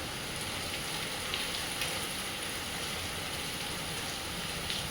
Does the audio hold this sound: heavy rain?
yes